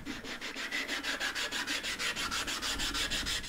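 A ceramic sharpening stone rubbed back and forth on a flattening stone, a steady rhythmic scraping grind of about a dozen even strokes, close and fairly loud, with no talking.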